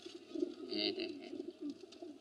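A pigeon coos in a soft, low, throaty burble, close by and fairly quiet, rising and falling over a couple of seconds with no voices.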